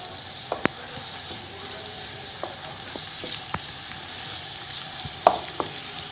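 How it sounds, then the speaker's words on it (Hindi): Onions sauté in hot oil for a Gujarati biryani, giving a soft, steady sizzle broken by scattered sharp clicks and taps of a utensil against the pan. "प्याज को अच्छी तरह आपने सौते करना है, बिल्कुल ब्राउन नहीं करनी है।"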